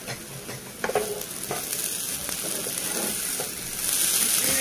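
Grated fresh coconut goes into frying potato kees, bringing a soft, steady sizzle close by with light stirring taps and scrapes, the frying growing a little louder toward the end.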